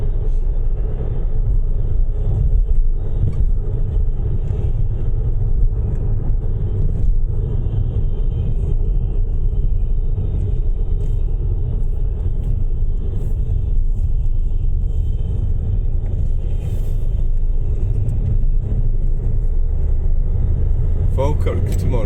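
A car driving along a Scottish road gives a steady, loud low rumble of engine and tyre noise throughout, with people talking inside the cabin over it.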